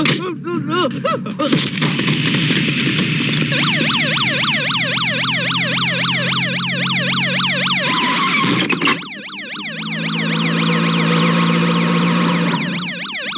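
An ambulance siren wails loudly and continuously, its rising and falling tone cycling rapidly and steadily, with an abrupt shift in pattern partway through before resuming close and prominent.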